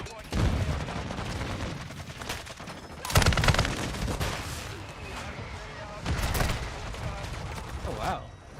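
Mortar strike explosions in a shooter video game land as three heavy booming blasts spaced a few seconds apart, with rattling gunfire and battle noise filling the gaps between them.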